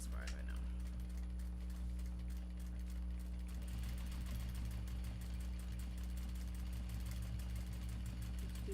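A sewing machine running steadily while stitching finishing seams on canvas pouches for a Japanese fabric bag, giving a continuous close mechanical hum with a fast rhythmic pulse throughout.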